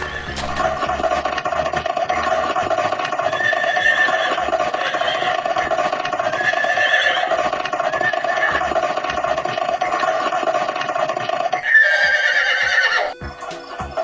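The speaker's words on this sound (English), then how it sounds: "My horse Max is sick" A horse neighs and whinnies in a long, loud call that runs steadily for about twelve seconds, then shifts to a brighter, higher burst near the end, with a faint scattering of hoof clatter underneath.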